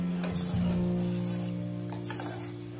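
Butter simmering into cow's-milk ghee in a pan on a low flame gives a steady, close, bubbling sizzle with a soft fizzing hiss and no voices over it.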